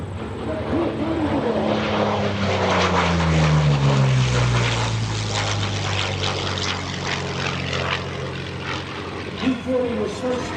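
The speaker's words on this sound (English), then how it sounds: "coming in from the right, here's Thom Richard, the P-40" A P-40 Warhawk propeller warplane flying past at the 2024 Westmoreland County Airshow, its engine drone swelling and then falling in pitch as it passes nearby. An announcer talks over it throughout.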